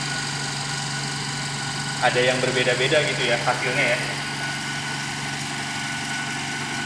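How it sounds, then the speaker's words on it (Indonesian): A pneumatic Instron tensile testing machine runs with a steady mechanical hum and faint vibration throughout, while a person talks over it in the middle. "Nah ini bunyi tenang aja karena memang sistemnya menggunakan pneumatik uji tariknya"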